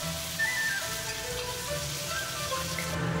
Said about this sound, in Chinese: 下姜葱等小料，爆出香味来